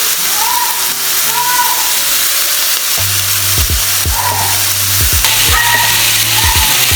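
Pieces of lamb sizzle in hot oil for Sri Lankan devilled lamb, a loud steady crackle with intermittent clinks and scrapes of a utensil against the pan.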